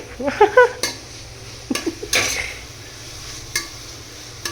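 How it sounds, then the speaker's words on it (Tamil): Vegetables and green chillies stir-fried in a pan, a utensil scraping and clinking against the metal in a few scattered strokes, with only a faint sizzle beneath. "வெஜிடபிள்ஸ் வதக்கி ஃப்ரை."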